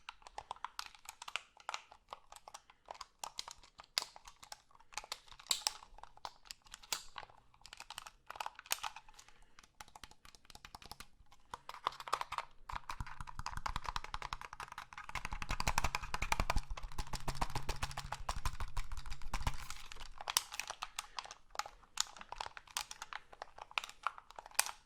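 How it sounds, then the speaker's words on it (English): Clicky buttons on a game controller pressed in quick, irregular bursts of sharp plastic clicks and taps, close and fairly loud, growing denser partway through, with no talking. "The buttons are really clicky on this controller."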